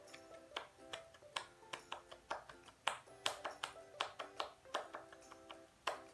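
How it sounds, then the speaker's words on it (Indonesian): A class of students performs the scout clap pattern in a classroom, crisp rhythmic clapping in repeated patterned bursts, moderately close and fairly faint. "2 kali tepuk pramuka."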